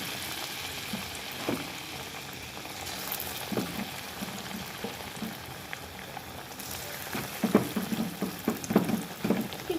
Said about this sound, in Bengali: এই যে এবার তেলের মধ্যে একটু আলুগুলো ছেড়ে দিই